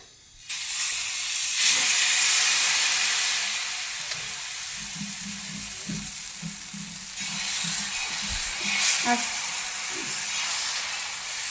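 Thin batter spreading onto a hot, oiled griddle set over a low gas flame gives a steady broad sizzle and hiss that persists throughout, with a few soft clinks and scrapes, and light talk running underneath.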